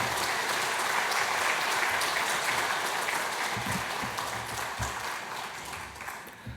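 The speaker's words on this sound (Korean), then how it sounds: "우리 목사님 나오실 때 뜨거운 박수로, 우리 환영의 박수로 모시도록 하겠습니다" A church congregation at a Sunday worship service claps warmly to welcome the pastor, dense sustained applause filling the room for several seconds before gradually thinning out toward the end.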